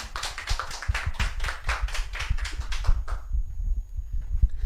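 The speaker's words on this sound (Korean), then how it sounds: "이 시간 우리 정성남 목사님 나올 때 우리 하나님께 영광의 박수 올려드리면서 같이 맞이하겠습니다." A church congregation applauds together as a pastor is welcomed to the front, a steady patter of many hands lasting about three seconds before cutting off into quiet room noise.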